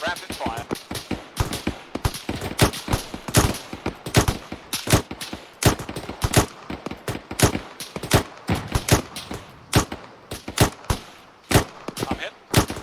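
Rapid automatic gunfire from the military shooter Arma 3 crackles near and loud, with dense overlapping shots and bursts from several weapons continuing almost without pause.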